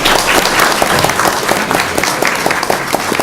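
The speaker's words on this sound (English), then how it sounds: "really, really big round of applause" Applause at a city council meeting, a dense, steady round of clapping from a seated room that holds strong for the whole stretch without any speech.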